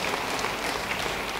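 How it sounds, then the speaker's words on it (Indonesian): Church congregation applauding during a sermon, a dense steady round of clapping from many hands, close and fairly loud throughout. "Beri tepuk tangan bagi dia."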